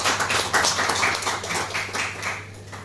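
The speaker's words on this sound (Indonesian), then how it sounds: "Tepuk tangan dulu untuk itu." Audience at a legal discussion forum for advocates claps for a few seconds, a moderate patter of hands over a steady low electrical hum in the room.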